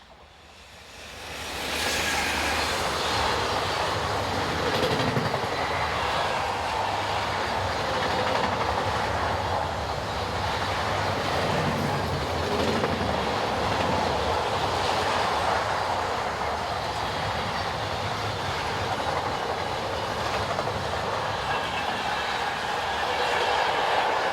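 DB Cargo locomotive 186177 hauls a loaded car train north towards Paris, a steady loud rumble of wheels and wagons rolling past close by for the whole stretch after a quick rise.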